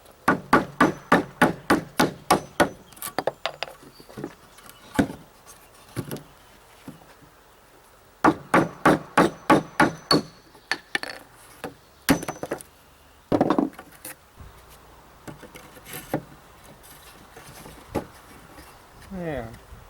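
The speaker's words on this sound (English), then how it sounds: "I'm going to take the rest of that out of there with my chisel" One-inch chisel driven with a mallet to cut out wood: bursts of sharp, rapid knocks in quick series, close and loud, separated by pauses with scraping and someone talking in between.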